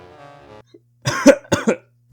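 Two or three harsh, close coughs in quick succession follow a brief low electronic hum, then silence.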